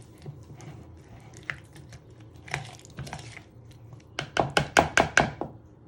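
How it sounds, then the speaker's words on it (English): A spoon stirs a cucumber mixture in a bowl for lamb kebabs, making soft scraping and knocking sounds, then a rapid burst of sharp, close taps against the bowl's side near the end. "you want to give this a good stir"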